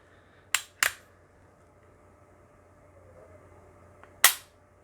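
Sharp pistol reports ring out at a shooting range where a Desert Eagle .50 AE is fired: two quick cracks close together, a pause, then a third loud bang.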